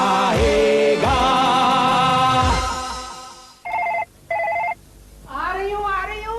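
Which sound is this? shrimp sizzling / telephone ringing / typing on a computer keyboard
telephone ringing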